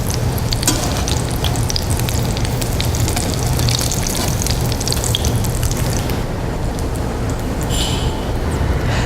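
Crab cakes fry in oil in a pan with a loud, continuous crackling sizzle full of dense spitting pops, steady throughout and close up, with a few faint clinks near the end.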